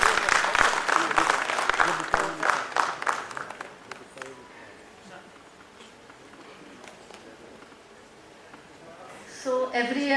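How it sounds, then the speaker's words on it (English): Audience applause at a foundation day celebration, energetic and close for a few seconds, then tapering off into quiet room noise before a voice resumes at the end. "Please give a big round of applause to them."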